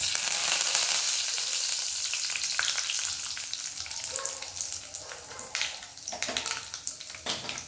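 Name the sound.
dried chillies and curry leaves frying in oil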